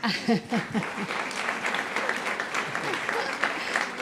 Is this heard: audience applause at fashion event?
yes